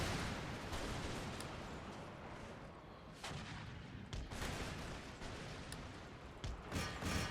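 Massed musket volleys crackle across a battlefield in the strategy game Empire: Total War with Prussian forces, dense overlapping gunfire and heavier booms in irregular bursts, loud and continuous.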